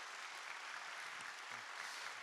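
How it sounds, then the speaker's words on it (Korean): Steady applause from a congregation at a church praise concert for a pastor, dense continuous clapping throughout with no pauses, moderately distant and even in level. "또 하나님께 영광의 박수를 돌려드리겠습니다"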